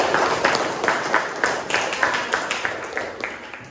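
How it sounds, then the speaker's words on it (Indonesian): A class of teachers in a classroom claps in a steady, even rhythm, the beats falling evenly and close together, fairly loud in the room. "Ada tepuk tangan buat kelompok kinestik."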